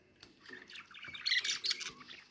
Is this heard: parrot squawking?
yes